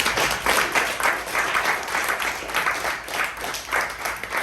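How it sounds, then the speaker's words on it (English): A round of applause from an audience at a talk, moderately loud clapping in uneven swells that lasts a few seconds without speech. "So another round of applause."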